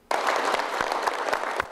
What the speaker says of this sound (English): the signing ceremony in Shanghai ended in huge applause